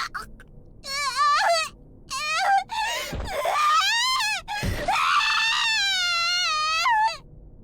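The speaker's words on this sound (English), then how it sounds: "unconscious screams of primal, nearly animalistic torment" A female character in the horror video game Corpse Party screams in agony as a blade is driven into her eye, a run of loud, drawn-out wailing shrieks with brief gasping breaks, rising and falling in pitch, heard alone.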